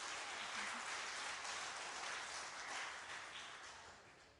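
Applause from an audience at a city zoning meeting forms a soft, diffuse patter of many hands that holds steady and then slowly fades toward the end, heard faintly and without voices.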